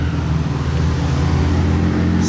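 A McLaren 600LT sports car drives by in Monaco with a loud, steady engine roar and deep low rumble held throughout, close and dominant.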